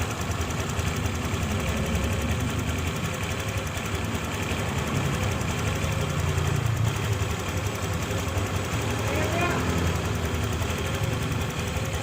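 A Honda Click 150i scooter engine idles steadily at close range after starting, giving a continuous, even rumble with a faint mechanical ticking and no speech.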